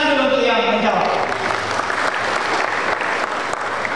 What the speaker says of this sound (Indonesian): tepuk tangan dulu untuk yang menjawab